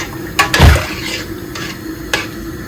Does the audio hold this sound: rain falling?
no